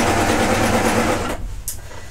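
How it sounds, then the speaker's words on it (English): A serger overlocker stitching a piece of fabric runs in a loud, fast, steady whir close by, then stops abruptly, leaving a brief quieter tail. "So I'm just going to serge this piece."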